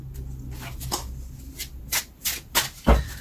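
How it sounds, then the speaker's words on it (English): Tarot cards shuffled by hand in a quiet room, a few soft riffling and tapping bursts that grow slightly sharper toward the end. "Do a quick shuffle and get five cards out of here to finish that one."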